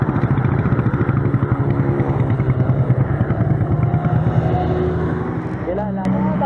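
A stock Raider 150 F.I. motorcycle roars steadily at high revs during a top speed run, a loud continuous engine drone with a brief dip and rise near the end.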